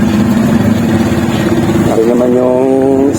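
A motorcycle engine idles steadily at close range, a low continuous putter with a faint pitch shift near the end.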